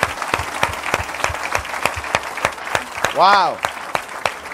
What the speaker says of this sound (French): Alors, on acclame le Seigneur